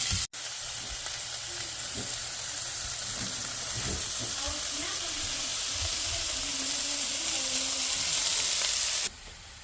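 Chicken and vegetables sizzle steadily in a pan during a stir fry, a continuous bright crackle with occasional stirring clatter and faint talk underneath.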